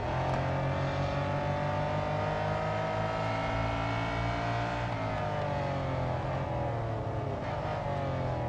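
Formula E electric race car in Real Racing 3 on a Formula E track, a steady high whine that rises in pitch under acceleration and shifts partway through, loud and continuous with no talk.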